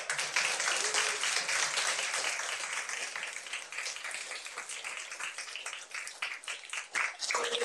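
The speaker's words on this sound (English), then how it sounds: "give them a round of applause." Applause at a school board meeting for a group of students, a full round of clapping from the room that gradually becomes more scattered toward the end.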